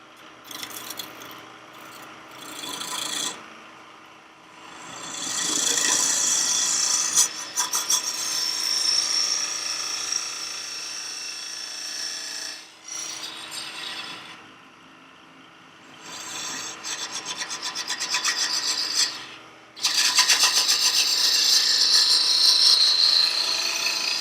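A lathe turning tool cuts into end grain wood while shaping a lidded box, giving sustained scraping and hissing passes broken by short pauses, close and fairly loud with no talking.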